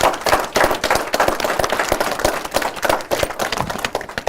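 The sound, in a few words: audience applause for teachers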